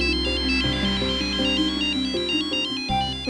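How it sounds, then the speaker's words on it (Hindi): A cheerful electronic phone ringtone plays a repeating melody, loud and steady throughout, with no voices over it. "उन्हीं का फोन आ गया।"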